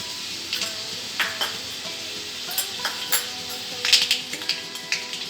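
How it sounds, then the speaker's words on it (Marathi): Mustard seeds dropped into hot oil with reddened garlic, giving a continuous sizzle with scattered light pops and crackles, close and fairly loud, with occasional clinks of a utensil. "लसूण त्याच्यामध्ये आपण मोहरी टाकूया"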